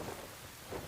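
Heavy rain pours steadily while low thunder rumbles beneath it as a storm approaches in an anime scene, a dense continuous wash of sound with no voices.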